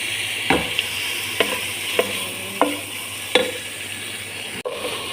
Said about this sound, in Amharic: ዶሮውን መጥበስ አለብን።